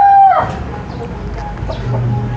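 Free-ranging chickens on a large lot produce a loud rooster crow at the start, trailing off into scattered clucking and soft hen calls over steady background noise.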